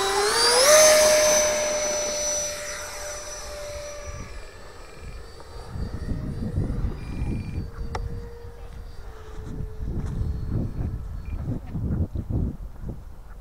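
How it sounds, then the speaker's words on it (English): A Horizon Hobby Habu STS 4S electric RC trainer jet spins up with a high whine, then runs on with a rough, uneven drone that seems out of balance, fairly close and without talk. "Motor kind of sounds like it's out of balance or something."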